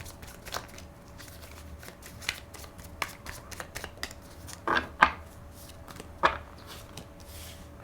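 Tarot cards are handled and shuffled in soft, quiet riffles and light taps, with a few sharper snaps of cards near the end.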